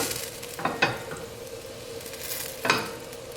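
Olive oil and butter sizzle in a frying pan on a gas burner, a steady faint crackle with a few louder scraping or stirring bursts.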